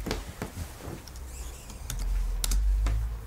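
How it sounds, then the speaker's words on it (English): Rapid, uneven keystrokes on a computer keyboard clatter close by for a few seconds, with a low hum running underneath. "what are you waiting for? Get typing."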